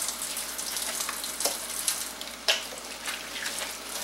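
Hot water running from a kitchen tap while hands are washed, a steady hiss and splatter with a few sharper splashes where the hands move under the stream, close and continuous with no voices.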